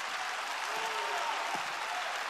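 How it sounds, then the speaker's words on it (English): A church congregation claps during a sermon, a sustained wash of applause with faint tones lingering underneath. "Clap your hands and praise him for that."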